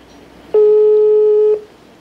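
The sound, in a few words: telephone call ringing tone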